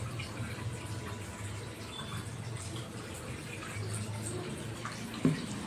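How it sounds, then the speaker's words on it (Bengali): Steady tap water runs and splashes as a face is washed with plain water at a sink, a continuous soft gush at moderate distance with one brief knock near the end. "আমি ভালো করে মুখটাকে নর্মাল জল দিয়ে ধুয়ে দিচ্ছি।"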